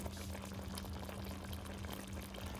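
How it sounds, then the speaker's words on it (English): Water pours steadily into a pot of Jamaican curry goat with potatoes and onions, a continuous soft splashing gush under a low hum. "So let's get some water in there, and then we're gonna let this cook for 2 hours."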